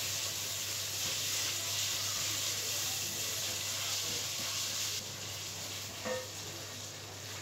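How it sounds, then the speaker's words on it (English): Two tablespoons of tomato paste cooking in a pan for a chicken and chorizo stew, giving a steady soft sizzle and hiss with faint stirring scrapes and a small clink near the end. "You need to cook that tomato paste out"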